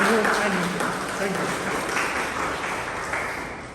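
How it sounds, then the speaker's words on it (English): An audience at a meeting applauds, the clapping dense at first and slowly thinning, with faint voices murmuring underneath. "And a loud applause for Aditya"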